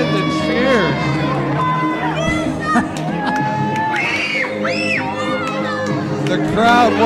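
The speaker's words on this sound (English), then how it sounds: "Did you hear the ladies screaming for him right there?" A wrestling arena crowd cheers loudly and continuously at a Grapplemania event, with women's high-pitched screams rising above the roar partway through, all under running commentary.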